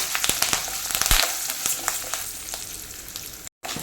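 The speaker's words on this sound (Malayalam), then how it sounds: "നല്ലപോലെ മിക്സ് ചെയ്യാം നല്ലപോലെ ഒന്ന് മൂത്ത് വരട്ടെ" Red spinach curry sizzling in a hot pan while being stirred, a continuous frying hiss broken by sharp scraping and clinking strokes of the spoon, with a brief dropout near the end.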